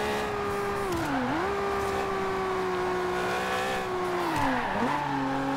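A Forza video game race car engine drones steadily at high revs, its pitch dipping twice as the tyres slide through drifts; continuous and loud, with no voices.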